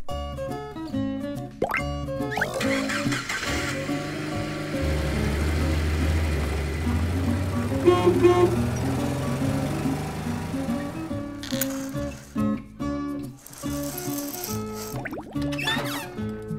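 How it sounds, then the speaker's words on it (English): A jeep engine rumbles low and rises in pitch as it revs, framed by a bouncy musical jingle before and after. "Jeep."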